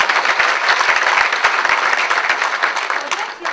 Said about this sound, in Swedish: Är inte det värt en applåd?